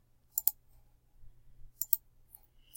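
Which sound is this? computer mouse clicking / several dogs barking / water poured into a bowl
computer mouse clicking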